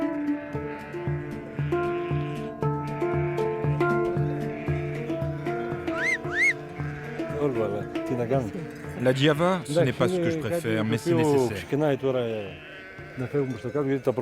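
A flock of pregnant ewes in mountain pasture bleats loudly and often, with overlapping calls from near and far that thicken in the second half, while a person talks over them.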